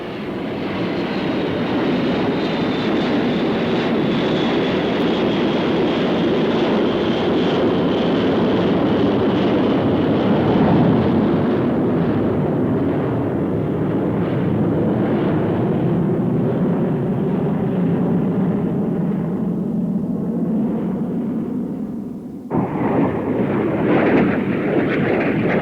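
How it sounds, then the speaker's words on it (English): Fouga Magister V-tail jet trainers of the Patrouille de France fly an air show aerobatic display, giving a loud, sustained jet roar whose pitch slowly shifts before an abrupt change near the end. "The French Air Force's aerobatic team, the Patrol de France, flying V-tail Magister trainers."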